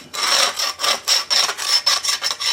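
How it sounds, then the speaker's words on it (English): The edge of a truck vent window part is rubbed to clear out crud, making a close, dry scrubbing rasp in about eight quick strokes with brief gaps between them. "if I just rub the edge, it gets all that crud out"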